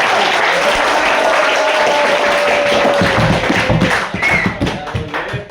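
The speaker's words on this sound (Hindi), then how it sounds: "अब बजाओ ना ताली" A roomful of people at a phone repair shop clap together, loud and continuous, with dense overlapping claps that start to thin out toward the end.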